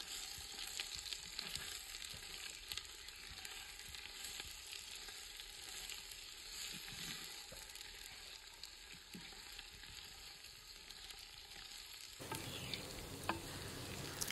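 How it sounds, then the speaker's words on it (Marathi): Finely chopped onion sautés in a pan over a wood-fired stove, a soft continuous sizzle with occasional light stirring, faint and distant, with a steady high background hum. "त्यामध्ये एक बारीक चिरलेला कांदा आहे ते टाकून घेऊया आणि परतून घेऊया"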